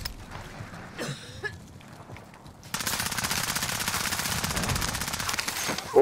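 Gunfire in Modern Warfare Warzone, a few scattered shots at first, then a sustained rapid automatic burst that rattles on loudly and close for several seconds.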